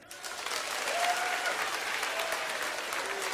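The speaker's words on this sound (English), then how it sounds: "Let me hear the men clap that are loyal to their women." Men in a live audience clap together, a broad, sustained wash of applause that swells in and stays steady, with no clear talk on top.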